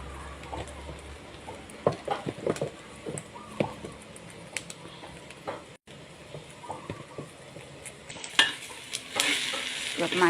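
Garlic fries in a pan while being stirred, with a continuous sizzle broken by scraping utensil strokes and a brighter surge of frying near the end.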